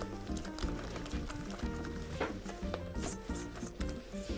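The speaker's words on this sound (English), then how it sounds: "add a little bit of flour And whisk it. whisking it all the time" A whisk rubs and scrapes steadily through pancake batter of flour and milk in a bowl for Finnish pancakes, a close, continuous rhythmic scraping.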